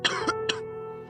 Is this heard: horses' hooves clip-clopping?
no